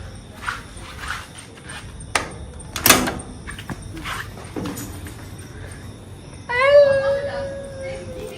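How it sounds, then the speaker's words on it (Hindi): A door slides and bangs open close by among scattered knocks and clatter, followed by a brief squeaky scrape, with people talking at home. "अब ये लोग आएंगे तो फिर दरवाजा खोलते"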